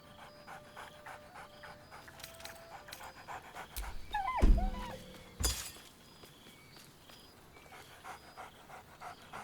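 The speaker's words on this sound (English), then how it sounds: "Scratch barks merrily in something like agreement." A dog in the video game Baldur's Gate III pants quietly, then gives a sudden sharp burst with a crash-like clatter near the middle before the panting resumes, all over soft game ambience.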